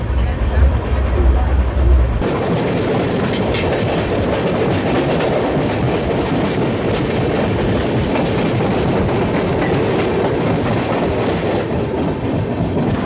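Double-decker express train 22625 running from Chennai to Bengaluru, its wheels clattering in a dense continuous roar with rhythmic rail clicks heard from inside the carriage.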